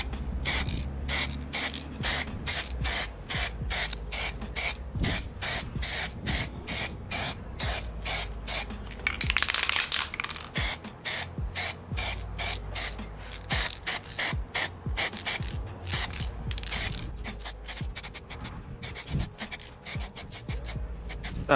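Aerosol can of liquid rubber being sprayed onto a car bumper, a long series of short hissing bursts with ratcheting clicks of the nozzle, near and fairly loud, one longer spray midway.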